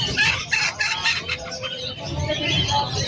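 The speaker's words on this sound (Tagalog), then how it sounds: "meron din manok dito" Chickens cluck and a rooster crows amid caged birds at the Malabon pet market, a busy mix of fowl calls and chirps with background chatter.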